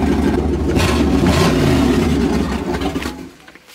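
A Jeep TJ with a swapped 5.2 V8 revs under throttle, a loud, close engine roar that rises and holds, then drops away toward idle in the last second.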